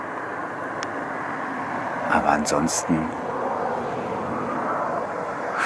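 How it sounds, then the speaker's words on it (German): A car passes on the E39 road beside a calm Norwegian fjord, a broad swell of tire and engine noise rising then easing, while someone speaks briefly over it. "Na, jetzt kommt natürlich gerade wieder ein Auto"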